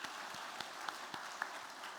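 A church congregation applauds during a service, a faint, distant patter of many hands clapping in a room with a few sharper individual claps standing out.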